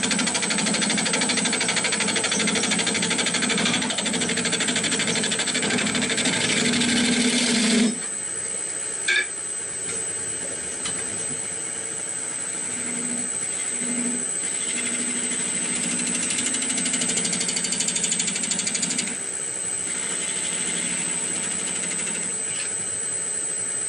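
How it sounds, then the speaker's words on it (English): A bowl gouge cuts a wooden bat on a lathe, making a steady, dense rasping hiss over the motor's whine; the cut is heaviest for the first eight seconds, then lighter and continuous. "And I'm going to try my bowl gouge, see."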